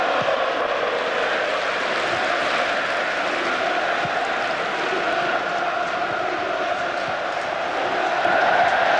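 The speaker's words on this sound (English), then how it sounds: "Big cheer for Alec Ferguson" A football crowd at Wembley during the Manchester United v Newcastle United FA Cup final lets out a broad, steady cheer, a sustained wash of many voices filling the stadium, with no single caller standing out.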